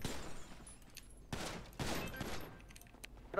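Bursts of gunfire crackle in a game, a few rapid volleys in quick succession, moderately loud against a quiet background.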